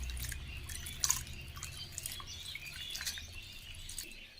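Dried fish being washed in hot water makes faint, close splashing and dripping sounds, quiet and uneven, with a small clatter near the start.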